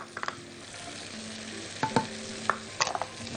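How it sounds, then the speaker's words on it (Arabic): A seafood mixture for light seafood pasta with béchamel being stirred in a pan over a soft sizzle, with several sharp spoon scrapes and clinks against the metal, no voices. "ونقلب الخلطه دي كلها مع بعضها"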